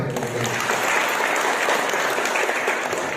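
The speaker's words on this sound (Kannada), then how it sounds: "ಜೋರಾದ ಚಪ್ಪಾಳೆ" An audience at a formal public program bursts into loud, continuous applause, a thick wash of many hands clapping close and steady throughout.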